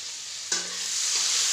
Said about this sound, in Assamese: নহৰু আৰু জ্বলাখিনি অলপ সময় ভাজি ল'ম।